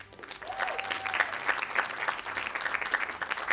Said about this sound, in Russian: Под ваши аплодисменты мы начинаем претензию с форума.